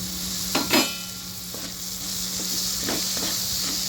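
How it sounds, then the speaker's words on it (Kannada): Tomatoes frying in oil with greens and beans, an even hissing sizzle with a few sharp spatula scrapes and taps near the start and scattered lighter stirs after, close by with no talking. "ಟೊಮಟೊನ ಒಂದು ಸ್ವಲ್ಪ ಎಣ್ಣೆಲಿ ಬೇಯ್ಕೊಳ್ಳಿ"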